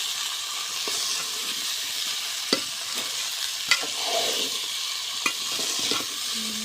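Vegetable curry frying in a pan hisses steadily, broken by several sharp scrapes and knocks as a spoon stirs it now and then.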